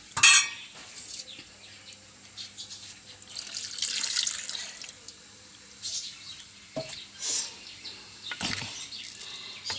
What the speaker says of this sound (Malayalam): നമുക്ക് ഒന്നാം പാലൊഴിക്കാം.